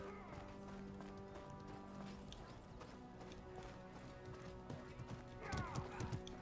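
Horse hooves galloping in the medieval combat game Mordhau, a rapid clip-clop that swells louder near the end amid battle noise and a faint whinny.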